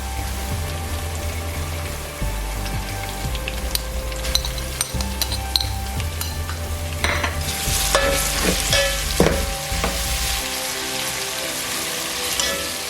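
Ginger and garlic paste frying with onions in a pan for a capsicum mutton curry, a steady loud sizzle with spatters and stirring scrapes throughout, close up, no talking.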